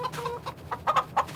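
Chickens in a small pen in Farming Simulator 22 cluck in a few short, separate bursts. The clucks are moderately close and sit over a quiet game background.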